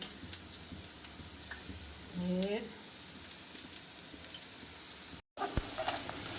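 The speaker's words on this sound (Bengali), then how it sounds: "একটু কুরকুরে করে কুরকুরে না কোনোরকম করে একটু আলু ভাজা করে নিলাম" Potatoes frying in a pan give a quiet, steady sizzle with small ticking crackles. A short voiced sound rises briefly in the middle.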